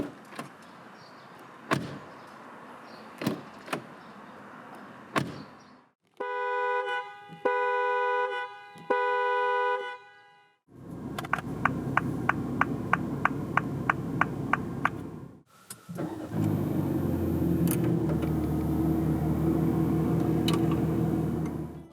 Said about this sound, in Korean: 컨트리맨 쿠퍼 S가 들려주는 감성 측면의 소리를 들어보겠습니다